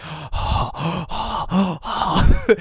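A man imitating heavy, angry breathing, five slow rhythmic breaths in and out, close and loud, ending with a short vocal catch.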